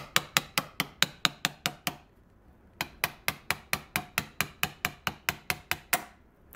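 A small hammer tapping into the corner of a workpiece held in a vise while making a transfer magnet. It gives crisp, sharp, evenly spaced metallic taps in two quick runs, separated by a brief pause, close and alone.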